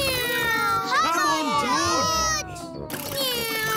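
A cartoon child playfully imitates a cat meow with a few wavering, sing-song cries at the start of a garden race. The voice is clear and close, over background music and other voices.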